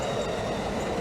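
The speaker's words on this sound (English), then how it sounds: "I catch the auto train for the first time" An Amtrak-style auto train, a mixed passenger and auto rack freight consist, rumbling past close by with a steady, loud roar and faint wheel clatter throughout.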